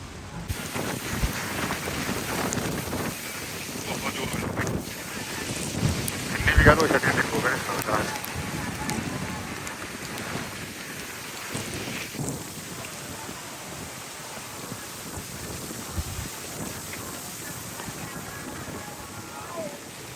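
Heavy rain pours steadily outdoors on a wheat farm during a windy storm, with rumbling thunder rising in the middle and a person talking over the constant downpour.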